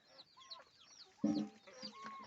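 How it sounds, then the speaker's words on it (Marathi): Free-range village hens cluck and murmur quietly nearby, with one louder squawking cluck midway among softer calls. "हे गावरान कोंबडीचं अंडे आहे आमच्या गावरान कोंबड्या आहेत आमच्याकडे"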